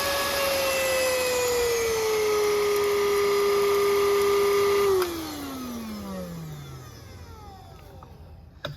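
A Moolan cordless stick vacuum with a low battery runs with a loud, steady motor whine, then shuts off around midway and its pitch glides down as the motor spins to a stop, leaving quiet room noise.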